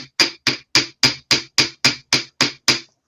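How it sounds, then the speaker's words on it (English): A hammer strikes round bead wire on a hard surface to flatten it for jewelry, ten sharp, evenly spaced metallic taps close by, with no talking. "I'm going to turn it and actually hammer it on that side there."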